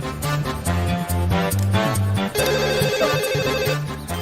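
A melodic phone ringtone plays loudly and continuously, with a repeating tune over a steady beat, no voices.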